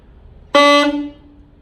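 A single harsh, blaring note on an alto saxophone, played far too loud and out of control, bursts in abruptly and holds for about half a second before fading.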